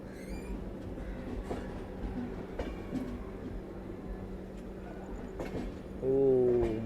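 The Goa Express rolls along the rails on its overnight run from Shirdi to Belagavi, heard from inside as a continuous rumble with faint rhythmic wheel clacks and a louder tonal swell near the end.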